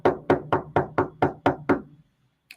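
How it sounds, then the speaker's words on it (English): Knuckles rap on a door seven times in an even, steady rhythm, each knock loud and close with a short decay, then silence and a faint tap. "Let's see if I get a knock."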